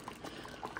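Water is added to a pot of boiling ares caldo, giving a brief, quiet burst of bubbling and soft liquid gurgles close by.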